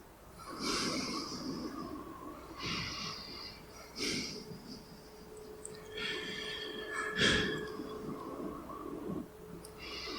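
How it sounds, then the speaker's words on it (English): Heavy human breathing, slow repeated inhales and exhales with snorty, raspy edges, close and fairly quiet, no talking. "I found this royalty-free human breathing sound effect on YouTube"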